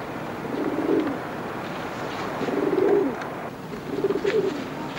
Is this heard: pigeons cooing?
yes